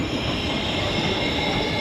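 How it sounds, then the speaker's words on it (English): A train rumbles past close by in a continuous, loud roar of wheels on rails, with no voices. "There's some high-speed trains that come through here, and there's some regular speed trains that come through here."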